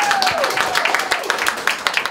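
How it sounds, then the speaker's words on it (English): Brief burst of dense, crackling audience applause welcoming new Master of Public Health students at a Liverpool event, steady hand claps filling the whole moment with a faint gliding tone early on. "So I think a big round of applause."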